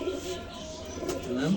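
Pigeons coo softly inside a pigeon shop in Kafr El Sheikh, a low continuous murmur of birds with a person briefly speaking over it.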